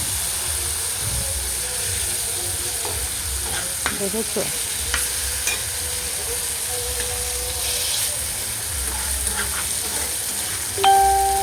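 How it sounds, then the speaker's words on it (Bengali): Rotten hilsa fish and thin-sliced potato jhuri fry in a pan with a steady close sizzle and hiss, with occasional stirring scrapes and a brief ding near the end, while a voice speaks briefly. "পচা ইলিশের ঝুরা করলে তো এত সুন্দর হয়, ভালো করে ভাজা ভাজা করলে"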